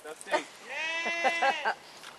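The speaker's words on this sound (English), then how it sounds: "And there's your Gulf Coast sheep." Gulf Coast sheep on a biodynamic farm in Louisiana, one drawn-out wavering bleat in the middle with shorter bleats and calls around it, close and clear against a quiet background.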